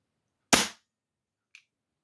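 A side lever on a single-shot .177 target air pistol with a plastic cone seal and recoiling sledge system snaps shut in one sharp, close metallic clack, followed a second later by a faint small click.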